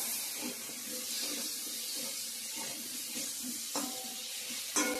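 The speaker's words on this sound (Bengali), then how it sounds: "আলুটা ভেজে নিচ্ছি।" Potato pieces fry in oil in a pan, a steady soft sizzle and hiss running throughout at moderate distance, with a few faint clinks near the end and no talking.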